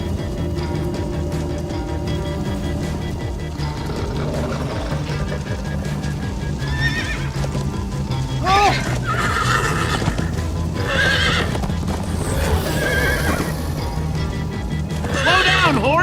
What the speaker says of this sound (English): Slow down, horse!